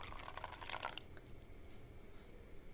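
Coconut water trickles into a mixer jar of coconut for chutney, a faint, close splashing pour lasting about a second before fading into quiet room hiss.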